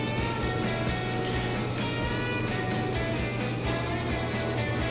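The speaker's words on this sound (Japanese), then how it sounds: "これをね軽くヤスリで削ってあげて" Plastic model kit part from an Aoshima 1/32 Nissan Fairlady Z RZ34 being lightly filed to remove the parting line, a steady continuous rasping scrape close up with a constant low hum underneath and no talking.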